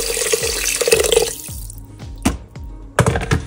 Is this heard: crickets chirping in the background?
no